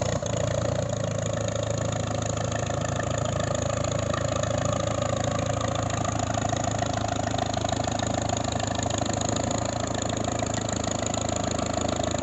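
A steady engine of an old Rumley Oil Pull tractor idles throughout at a gas and steam engine show, a low continuous rumble with a chugging mechanical texture, fairly close and constant in level.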